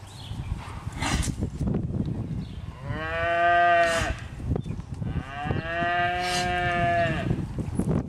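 A big mock-faced yellow cow gives two long, loud moos, each lasting over a second, with a pause between them and background noise throughout.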